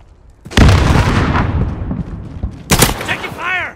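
Loud bursts of gunfire and explosions in a military shooter video game crack close by, a heavy blast rolling on for seconds before a second sharp burst, with a brief voice-like sound at the end.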